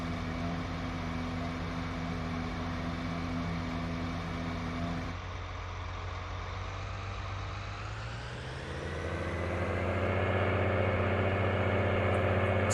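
Tractor engine in Farming Simulator 19, a steady low idling rumble with a constant hum that drops briefly, then rises in pitch and loudness toward the end.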